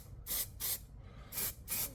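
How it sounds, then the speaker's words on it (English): Undercoat sprayed from an aerosol can onto a metal part in four short, sharp hissing bursts with brief pauses between them, close and fairly quiet, with no talking. "sort of spray all the edges that are hard to get to first."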